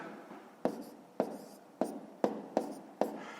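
Pen or chalk writing numbers for column addition, heard as six sharp, evenly spaced taps and short strokes, close and fairly quiet, with no talk.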